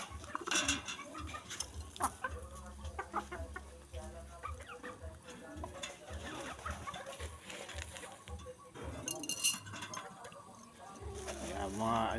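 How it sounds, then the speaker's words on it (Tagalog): Bred pigeons in a Pampanga coop coo softly in repeated throaty calls, with rustling and clucking around them and intermittent talk nearby, moderately close but low in level. "So ngayon meron din tayong binibreed na kalapati dito."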